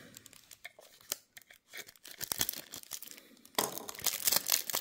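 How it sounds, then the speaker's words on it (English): Plastic wrapping is torn and peeled off the box of a Hobby Japan Toyota Sprinter Initial D car model diorama, with close, faint crinkling and tearing in irregular bursts that grow louder and busier toward the end. "Let's remove the plastic first."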